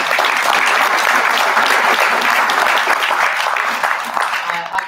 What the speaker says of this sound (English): These ladies really deserve a round of applause for all the hours.